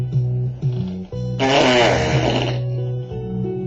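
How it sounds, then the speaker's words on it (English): A long, loud, raspy fart lasting about a second, heard close over a steady musical backing track with sustained tones. "because I farted to the west"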